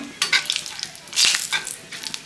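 Bay leaf, cinnamon and cardamom fry in hot oil, giving close, crackling sizzles that flare in short bursts and spatters, with a stronger crackle near the middle, and no talk.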